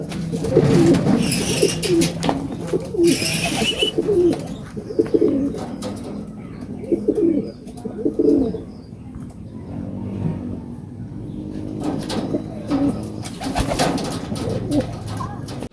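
Pigeons coo in short repeated bursts as they come in to land during a North Derby pigeon race, near and fairly loud, with occasional chirps and a faint passing car.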